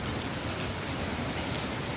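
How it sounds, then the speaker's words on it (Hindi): Heavy rain pours down in a dense, steady roar, loud and unbroken throughout, with no voices. "इतनी तेज बारिश हो रही है यहाँ पे, आपको आवाज़ आ रही होगी"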